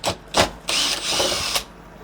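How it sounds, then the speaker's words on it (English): Power driver fitted with a PZ1 bit backing grub screws out of a sash lock faceplate: a few short whirring bursts, then one longer steady run of the driver, close and fairly loud, with no talk. "I need to use a PZ1 bit to remove these grub screws holding in the faceplate."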